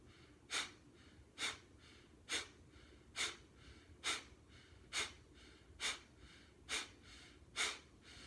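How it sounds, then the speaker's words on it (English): Bhastrika breathing: ten sharp, forceful exhales pushed from the diaphragm at an even rhythm of about one per second, each a short loud puff of air close to the mic, with quiet between them. "you blow the air out very percussively by pushing with your diaphragm"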